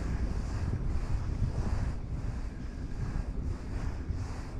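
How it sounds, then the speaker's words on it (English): Steady wind buffets the microphone outdoors on open water during a mid-40s day of striper and white perch fishing, a continuous low rumble that swells and eases without speech. "A bit of wind."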